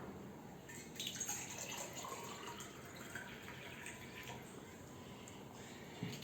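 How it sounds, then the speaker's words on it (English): Water filling an empty glass, a soft, steady trickle heard faintly over low room noise with no talking. "Take an empty glass. Fill it with some water."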